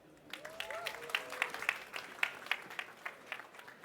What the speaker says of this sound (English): let's give a big applause to our team who built this